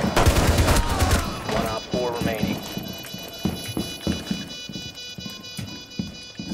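Rapid automatic gunfire from a rifle in Rainbow Six Siege, a loud burst at first, then scattered shots and footsteps with a voice talking over the action.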